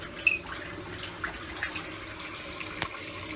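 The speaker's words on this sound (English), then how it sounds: "At least there's water coming out." Water runs thinly from a faucet at a sink in Japan, a faint steady trickle with small splashy ticks, quiet and close with no talking.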